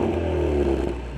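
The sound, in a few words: 2020 Ford Mustang performance exhaust revving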